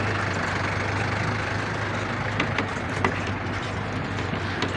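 A large vehicle engine runs in Taobat in the Neelum Valley, a loud, steady low rumble close by with a few faint clanks and no talk.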